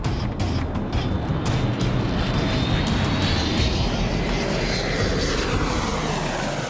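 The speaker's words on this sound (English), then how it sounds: "with a blast of his two Rolls-Royce engines, he roars off" An airliner with two Rolls-Royce engines powers up during a go-around, giving a loud, continuous broadband roar that stays near and steady throughout with no voices over it.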